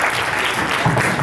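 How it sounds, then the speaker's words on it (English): A round of applause from an audience at a talk on curing a fear of flying: dense, continuous clapping from many hands, loud and close, with no gaps. "Big round of applause."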